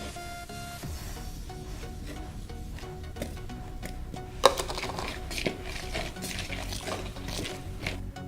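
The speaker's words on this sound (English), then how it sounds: "we're going to pour our milk mixture into the flour while stirring with the fork" A fork stirs a milk mixture into flour in a bowl, giving soft, steady scraping and clinking close by, with one sharp tap of metal on the bowl midway.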